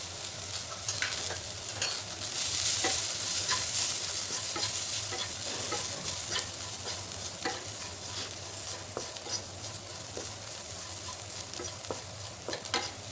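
Guar beans cooking in a pan with red chili powder, turmeric and salt: a steady soft sizzle of frying, broken by repeated sharp scraping clicks of stirring, fairly quiet and close, with no talk.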